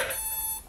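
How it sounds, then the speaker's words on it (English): A short electronic beep from a KK2 drone flight controller rings out, thin and high-pitched, fading quickly in a quiet room. "And wait for the double beep."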